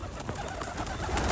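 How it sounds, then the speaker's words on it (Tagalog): Pigeon cooing softly at close range outdoors in Gamagori, Japan, a brief low murmuring call over light background noise. "P for pigeon."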